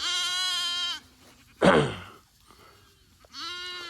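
Sheep and spring lambs bleat in a pasture at lambing time, with two clear, close, drawn-out bleats separated by a brief rustling sound, and no speech.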